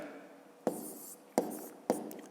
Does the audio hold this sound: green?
no